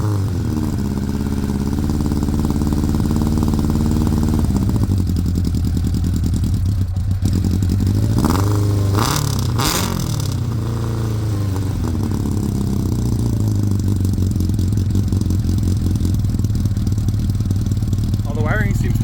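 A Kawasaki Ninja motorcycle engine swapped into an Autozam kei car runs loud and close, idling with a steady drone, then revving up and down briefly mid-clip before settling back to idle, with someone talking over it.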